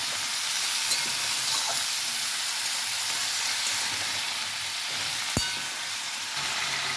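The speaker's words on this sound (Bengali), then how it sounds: "আমি এবার একটু ভালো করে নেড়ে নেবো" Pumpkin, potatoes and flat beans frying in oil in a pan, a steady hissing sizzle at moderate level with a few faint stirring scrapes and one sharp clink, no talk.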